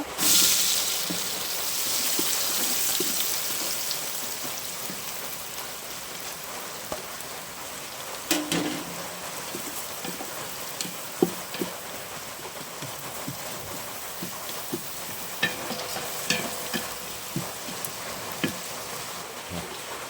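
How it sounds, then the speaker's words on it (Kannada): Sliced onions frying in heated oil and ghee for chicken biryani, a dense hiss that is loudest at first and then settles into a softer fry marked by scattered pops and crackles. "ಇವಾಗ ಇದು ಎಣ್ಣೆ ಮತ್ತೆ ತುಪ್ಪ ಕಾದಿದೆ ಈ ಮಸಾಲೆ ಪದಾರ್ಥಗಳನ್ನೆಲ್ಲ ಹಾಕೋಬೇಕು ಇವಾಗ ಇದಕ್ಕೆ ಐದು ಈರುಳ್ಳಿ ಕಟ್ ಮಾಡಿದ್ದು"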